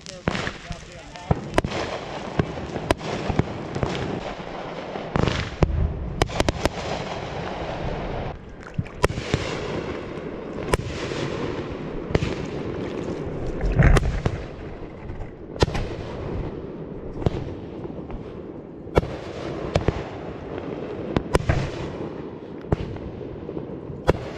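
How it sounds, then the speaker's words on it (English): Fireworks go off in a string of sharp, booming bursts at irregular intervals, some close and loud, others softer and farther away, while people talk and cheer underneath. "I was just finding the actual fireworks"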